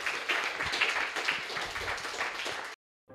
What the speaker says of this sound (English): let's give 41-16 a huge round of applause